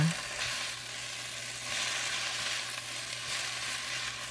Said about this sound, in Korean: 소금 조금 넣고 골고루 볶아줍니다